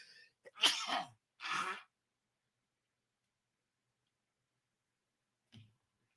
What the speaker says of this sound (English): I got to sneeze and blow my nose at the same time.